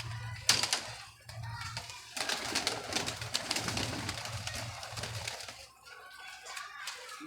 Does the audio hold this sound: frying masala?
no